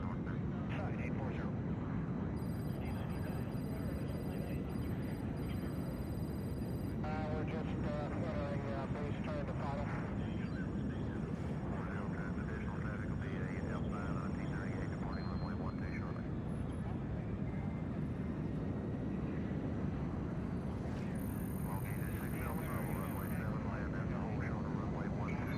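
A steady, low aircraft engine drone fills the cabin during descent in Splinter Cell: Blacklist, an unbroken rumble throughout with faint electronic tones and a voice speaking over it.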